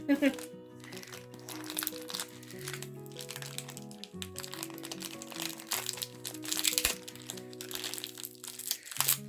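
Wrapping paper crinkles and crackles as a mailed parcel is opened, busy irregular rustling close by, with someone talking over it and soft music playing underneath.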